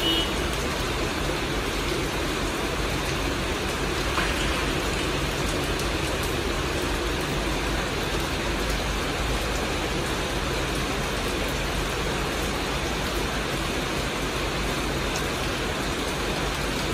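Steady evening rain hisses continuously, mixed with the low rumble of traffic and a large truck, with no talking.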